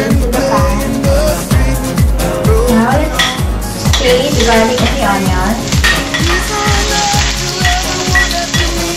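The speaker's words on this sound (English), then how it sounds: "Now we will start to cook them in the pan." Meat frying in a pan during a home cooking demonstration, a loud continuous sizzle with repeated clanks and scrapes of utensils stirring against the pan at a steady rhythm, close up.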